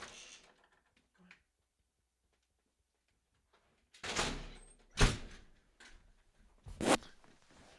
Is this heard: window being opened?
yes